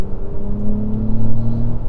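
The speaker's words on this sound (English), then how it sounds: "once you absolutely hammer your foot to the pedal, you're absolutely gone" A 2023 Acura TLX Type S accelerates hard in sport plus mode, its engine note rising in a continuous, close rumble over two seconds with no talk.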